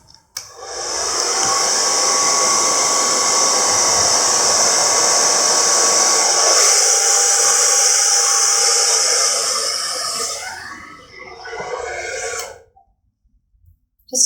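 Hair dryer on a low setting pushing poured acrylic paint across a canvas in a Dutch pour, a close, steady whooshing roar for about ten seconds that then cuts out, with brief rustling before quiet.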